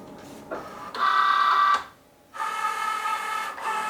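Cricut Joy cutting machine feeding smart label paper with no mat, giving two runs of close, steady motorized whirring split by a short pause, with no voices.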